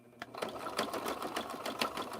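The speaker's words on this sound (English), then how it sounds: "this sewing machine is right across from my other sewing machine" A sewing machine stitching on a home worktable, close and fairly quiet, with a rapid rhythmic mechanical clatter and light ticking pulses running through the short stretch.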